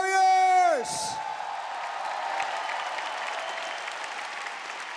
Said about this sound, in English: a big round of applause for your warriors!